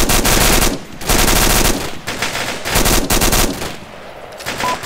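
Sustained machine gun fire in the military shooter game Arma 2, loud and close, coming in several long bursts separated by brief pauses, with no talk over it.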